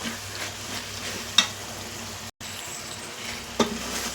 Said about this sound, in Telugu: ఇదే ఈ కారం పొడి ఇందులోకి మిక్స్ చేద్దాం అంతా కలిసేలాగా మంచిగా కలుపుకోవాలి